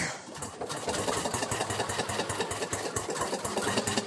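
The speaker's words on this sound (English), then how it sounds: "this is an internal combustion engine. The fuel source, in this case diesel oil, is ignited inside the cylinder." A diesel internal combustion engine runs steadily with a rapid, even mechanical chugging rhythm, moderately loud and alone without talk.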